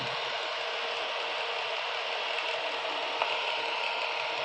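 A portable electric heater's fan runs with a steady, even whoosh of airflow. The close, unchanging hum carries a faint mechanical texture, and no one talks over it.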